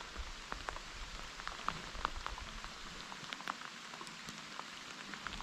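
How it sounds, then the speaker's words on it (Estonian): Rain showers fall during a day of fishing, a steady fine patter of raindrops with scattered sharper drips landing close by, soft and even throughout with no voices. "See vihm on okei veel siin."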